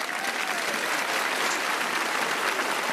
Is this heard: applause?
yes